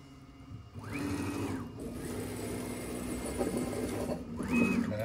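An Onefinity Elite Foreman CNC machine cutting with a 1/4-inch compression bit hums steadily, with two whining rising-and-falling stepper sweeps near the start and end over a constant mechanical drone.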